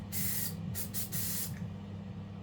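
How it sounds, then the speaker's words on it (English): Three quick hissing bursts of aerosol spray onto a carburetor jet from a 1980 Honda Camino moped, the middle ones close together, over a low steady hum. "Let's spray it."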